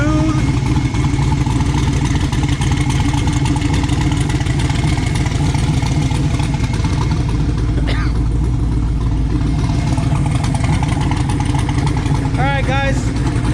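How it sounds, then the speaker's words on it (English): A built 408 stroker engine idling in an S10 truck, a steady low rumble running close and continuous with a brief rev change partway through. "Everything sounds good. It sounds quiet. Engine sounds smooth."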